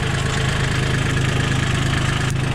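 A tractor engine idles nearby on a farm, a steady rhythmic low chugging throb that stays loud and even throughout, with no talking.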